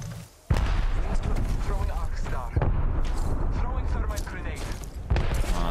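Grenade blasts and gunfire in an Apex Legends squad fight, a sharp loud boom opening a dense stretch of shots and further explosions, with players talking over the action.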